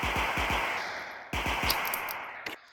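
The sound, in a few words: gunfire with recoil in a video game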